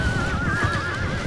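Horses neigh and whinny loudly and continuously in a horse archer melee battle in a Total War video game, with a sustained whinny over a dense low rumble of combat.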